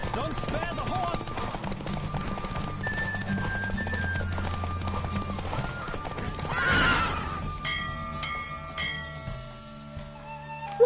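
Horse hooves clip-clop at a gallop with neighs and whinnies in The Witcher 3, a loud, steady rhythm under game music with a brief rushing swell midway.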